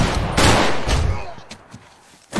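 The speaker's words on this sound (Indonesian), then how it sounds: "saat baku tembak berlangsung, Sirik harus terkena tembakan" Rapid bursts of loud gunfire crackle in quick succession, fading to scattered distant shots before another sharp blast at the end.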